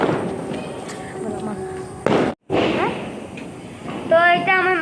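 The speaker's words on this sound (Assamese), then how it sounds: "এতিয়া মই মাৰোঁ পাত্তা বোমা।" A patta bomb firecracker is set off during Diwali celebrations, giving a sharp, loud bang partway through that briefly overwhelms the sound, with voices and background noise around it.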